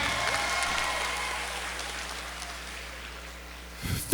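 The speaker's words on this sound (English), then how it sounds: "Can I get 2 claps and a strike?" Graduates at a FAMU summer commencement applaud and then fade into a reverberant hall, with a sharp loud hit right at the end.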